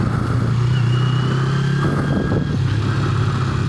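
A 2006 Kawasaki Ninja 250 motorcycle cruising on the road, giving a steady, close engine hum with a faint rising pitch and wind rush throughout.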